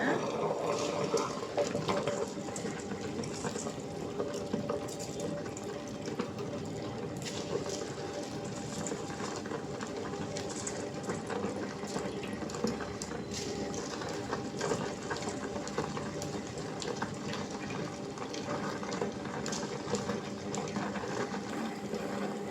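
A wet grinder churns soaked rice into appam batter, giving a steady, continuous mechanical grinding drone with a wet, rumbling texture that runs unbroken and fairly loud from start to finish.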